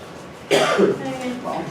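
A single harsh cough bursts out close by, followed by a short rasping tail.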